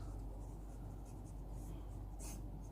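A wooden Syahi fountain pen in kingwood with a Bock nib scratches softly across paper in a quiet, continuous stroke, faint and close.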